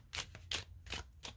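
Tarot cards are shuffled in quick, soft riffling bursts, about four short rustles close by and fairly quiet.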